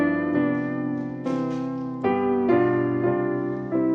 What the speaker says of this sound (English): if I just play this as an electronic piano